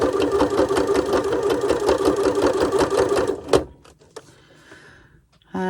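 Sewing machine stitching scrap fabric in a fast steady rhythm, close and loud for about three seconds, then stopping abruptly, followed by a few faint clicks and a brief mechanical whir at the end.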